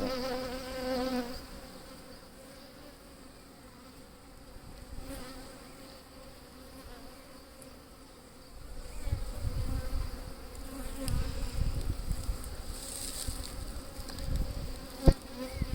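Honey bees buzz around an open Layens hive during an inspection, a dense continuous drone of many insects close by that swells louder in the second half, with no talking.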